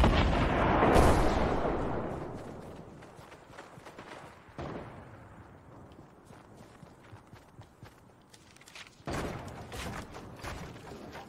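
In a Fortnite match, a rocket explodes with a loud booming blast at the start that trails off into rumble, followed later by another sharp burst, with faint clattering in between.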